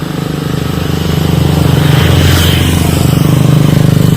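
A motorcycle engine rumbles loudly and close by, holding a steady throbbing idle that swells slightly as it revs, with no voices.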